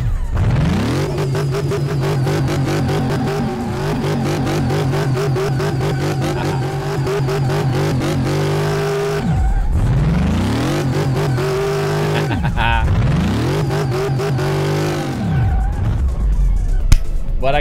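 A McLaren 650S in Car Mechanic Simulator 2018 roars through burnouts, its engine revving hard and holding high with repeated rises and drops, loud and continuous with no voices.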